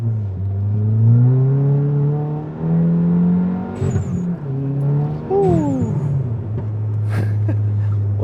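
A Stage 2 tuned 2022 VW GTI MK7 engine revs, rising and falling loudly up close across several pulls, with a few sharp exhaust pops crackling between revs.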